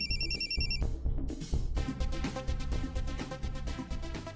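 A phone rings with an incoming call, its melodic electronic ringtone playing loudly over music in a domestic scene, with no talk.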